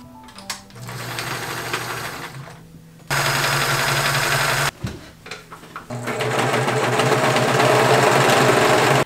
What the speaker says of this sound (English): So I'm going to go ahead and sew the side seam next.